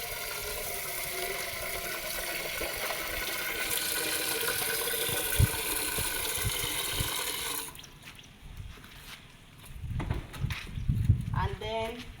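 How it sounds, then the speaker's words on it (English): Water poured into a cooking pot while preparing a lemongrass mosquito repellent, a steady rushing pour for several seconds before it stops and quieter handling sounds follow. "So I'll add in some water."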